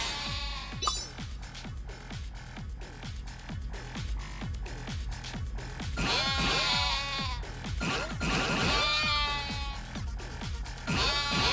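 Sheep in Yakuza: Like a Dragon bleat over and over, loud wavering calls stacked on a steady rhythmic musical pulse with a clinking beat, and no talk.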